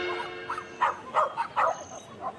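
A small dog, likely a Chihuahua, gives a run of about five sharp, yappy barks at a steady rhythm, fairly close and moderately loud over a faint background hum.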